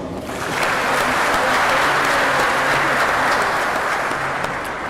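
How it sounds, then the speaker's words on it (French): A church congregation at a Protestant service bursts into sustained applause, many hands clapping in a dense, steady roar that holds loud for several seconds before easing slightly. "Est-ce que nous pouvons pas applaudir?"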